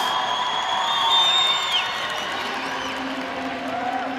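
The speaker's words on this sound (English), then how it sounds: "You can hear the crowd going wild already." A large crowd at the World Wushu Championships roars and cheers continuously, with shrill whistles and whoops rising above the dense, steady wash of voices.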